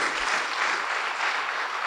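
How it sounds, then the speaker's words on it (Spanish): Church congregation clapping together during a worship service, a dense, steady wash of applause filling the room without a break for the full two seconds. "Dale fuerte las palmas a Cristo."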